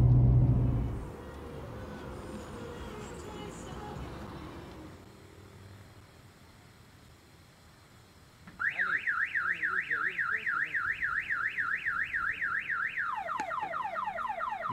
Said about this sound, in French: Tu as enclenché l'alarme?